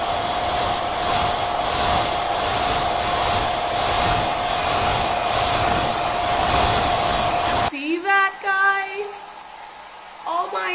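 A hair dryer blows loud and close for about seven and a half seconds, drying hair after leave-in conditioner with a steady whoosh and a high whine. It then cuts off and someone speaks briefly.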